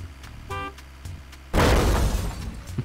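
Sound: car horn honking in the video game Totally Reliable Delivery Service

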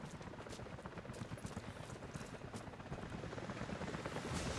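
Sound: helicopter approaching, from a video game

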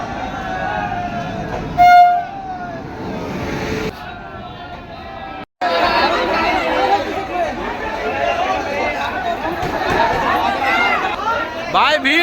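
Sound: crowd of passengers at a crowded railway platform

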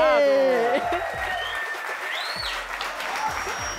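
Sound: audience applause for the judge

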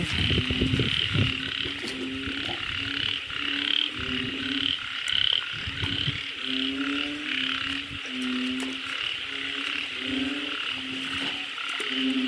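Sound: frogs croaking

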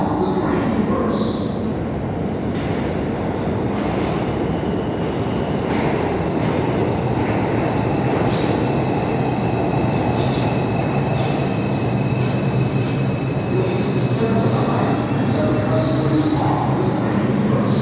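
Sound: New York subway train at Chambers Street station

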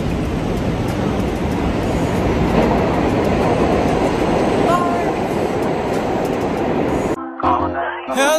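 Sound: subway train

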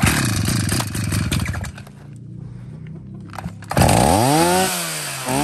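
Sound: used Japanese 52cc chainsaw engine running

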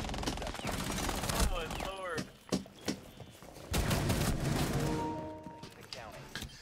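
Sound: gunfire in video game Operation Deadly Omen

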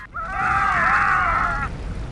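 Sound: people screaming in video game Star Wars Jedi Outcast

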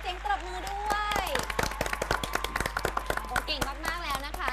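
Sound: audience applause for the school team

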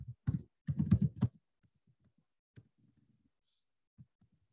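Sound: typing code on a computer keyboard

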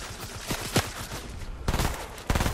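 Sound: gunfire in the video game Fortnite

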